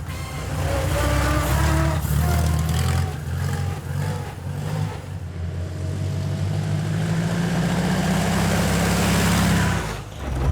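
A vintage Indy race car engine rumbles and revs unevenly, loud and close, with a rising drone near the end before it cuts back.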